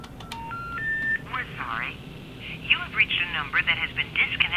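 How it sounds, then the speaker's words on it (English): A few short touch-tone keypad beeps at different pitches from a touch-tone phone, then a voice speaking, with tones and talk overlapping near the end. "We can also press the numbers and they will beep just like any normal phone."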